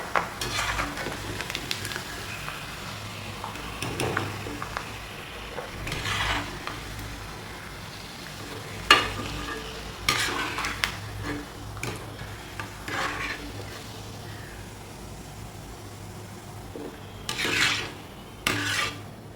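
Grated coconut fries in hot oil with a soft, continuous sizzle, broken by scraping stirs of a spoon against the pan. The cooking sounds are close and fairly quiet, with no talk.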